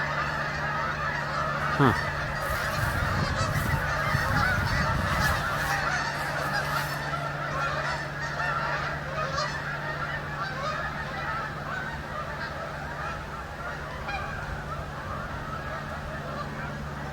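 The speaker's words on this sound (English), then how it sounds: "So the geese are trying to land over there in the canal." Geese honking as they circle over a canal trying to land, a cluster of loud calls early on that fades into faint distant honks over steady outdoor background, with a brief murmur from a person.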